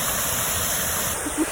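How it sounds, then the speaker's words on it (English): Heavy waterfall pouring hard after rain, seen on a kayaking trip, giving a steady, loud, full roar of rushing water with no break. "it was nice to see it just flowing like crazy"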